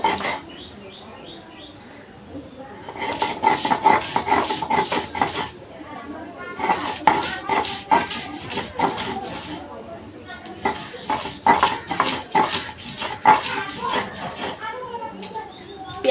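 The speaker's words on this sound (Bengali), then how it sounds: "যে পেঁয়াজ আর রসুনটা একসাথে বেটে নেব" Onion and garlic being ground together into a paste for a chicken gizzard and liver dish: repeated rhythmic rasping strokes come in three long bursts, close and fairly loud, with quieter pauses between them.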